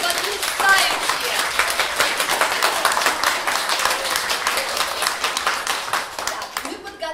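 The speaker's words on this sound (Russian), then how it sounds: "Аплодируем еще раз нашим детям, потому что они вас потрясающие." An audience at a children's theatre performance claps for the young performers, many distinct hand claps in a lively, uneven patter that stops abruptly at the end.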